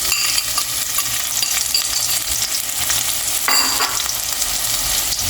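Garlic, onion and spices fry in a pan for a curry, producing a loud continuous sizzle with steady crackle and a brief stirring scrape partway through, close up and with no voices.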